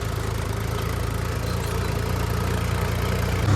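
A Mahindra 275 Tornado tractor engine runs close by in a steady low diesel chug, a constant heavy drone with no breaks and nothing else heard.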